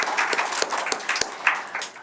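A church congregation at Sunday worship claps to welcome a newcomer, a brief round of applause from a modest group with a few sharper individual claps standing out.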